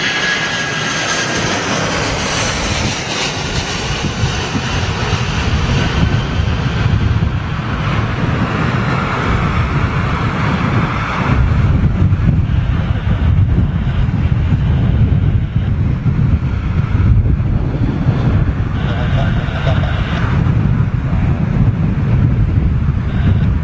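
An airliner lands in strong crosswind at London Heathrow with a loud jet-engine roar and a whoosh of wind buffeting the microphone, shifting and rumbling on as the engines spool down, with no voices.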